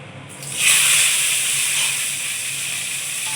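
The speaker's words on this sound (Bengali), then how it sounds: "এবার উচ্ছে দিয়ে দেবো একবার আমি ভেজে নেব" Cut bitter gourd dropped into hot oil bursts into a sudden loud hiss that stays strong and steady, then eases slightly into a continuous close sizzle.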